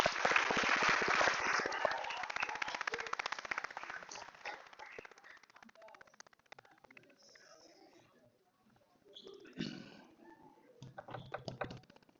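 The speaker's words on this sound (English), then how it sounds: "how about one more round of applause for our 2023 Varsity Cheer Squad" Applause at a school fall sports assembly for the 2023 varsity cheer squad, a loud burst of clapping that thins out and fades over several seconds, followed by scattered claps, quiet rustling and a few faint voices.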